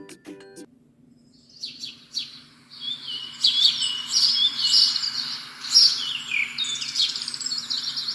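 Several birds chirp and sing in overlapping high trills, growing busier after the first few seconds, with a faint low hum underneath and no talking.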